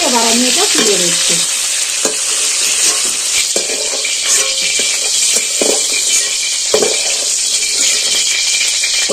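Cauliflower frying in oil in a wok, a loud, steady sizzle running throughout with repeated scraping and clinking of stirring, plus a brief tonal scrape near the start.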